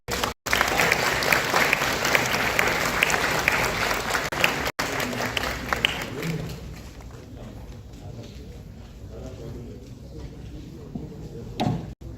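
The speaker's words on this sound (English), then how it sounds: "join us in extending a round of applause" Steady audience applause at a panel session of a business conference, full and continuous for several seconds, then thinning and fading as the room quiets, with a brief voice near the end.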